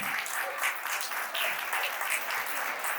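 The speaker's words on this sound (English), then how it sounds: "Give a huge round of applause to actor Anuj Nayak, Crime Patrol fame." Audience clapping for an actor welcomed on stage at a musical show, fairly faint and steady with uneven peaks across a few seconds.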